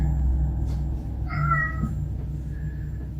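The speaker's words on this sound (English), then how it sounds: "My cat just keeps walking around meowing" A house cat meows a couple of times indoors, short clear calls at moderate volume over a low steady background hum, with no talking.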